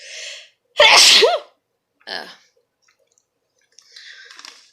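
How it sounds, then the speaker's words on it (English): One loud, close sneeze with a sharp intake beforehand, followed by a short sniff and faint rustling in an otherwise quiet room. "I'm going to sneeze now."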